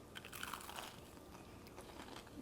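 Crunchy keto hash browns being bitten and chewed, a few soft crisp crunches early on, then quieter chewing against a faint room background.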